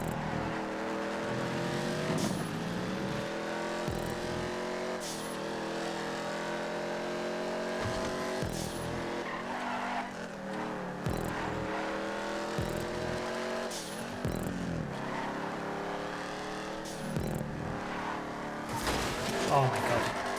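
A race car engine in a GTA 5 video game race, revving loudly and continuously with repeated gear shifts and sharp drops in pitch over about twenty seconds, with tire noise and a voice talking at times.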